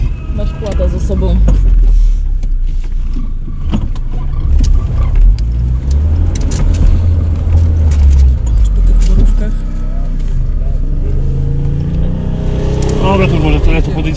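A car engine revs and labours in surges while the driver tries to reverse on a rough, bumpy dirt track, loud and close, with voices talking over the engine noise.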